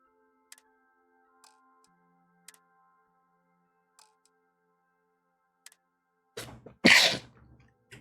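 One loud, close sneeze bursts out near the end, following several seconds of near silence broken only by a few faint, sparse clicks, during a livestream of Starfield.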